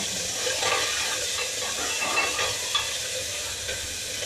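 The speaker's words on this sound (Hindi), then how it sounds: "अभी मैं लगा रही हूँ इसमें तड़का" A tadka of tomato and green chili sizzles steadily in a hot pan, a loud continuous hiss with light stirring scrapes throughout and no voices.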